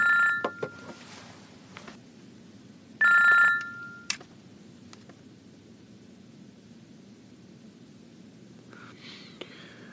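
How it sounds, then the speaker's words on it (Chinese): A telephone rings in short electronic bursts, two distinct rings a few seconds apart, over a quiet background hum with faint clicks. "好了，打电话了。"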